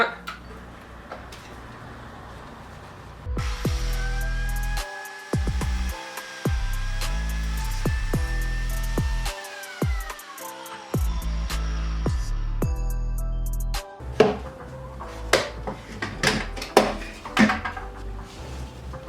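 A Makita PJ7000J biscuit joiner spins up with a loud motor whine and cuts into wood in several bursts, stopping and restarting, followed by a few sharp knocks and handling clatters near the end.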